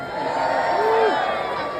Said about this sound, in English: If you like your community and everything we do, give us a cheer!